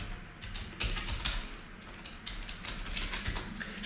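Fingers tap out a command on a computer keyboard, a quick irregular patter of close, crisp keystrokes with slight pauses between bursts and no talking.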